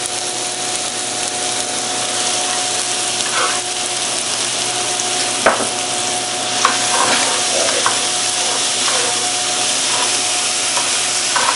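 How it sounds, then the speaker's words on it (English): Stuffing mix with fennel seed sautéing in butter, a loud, dense, continuous sizzle up close, with a steady hum beneath and a few sharp utensil taps. "what I'm going to do now is just really let this just saute and simmer down a bit"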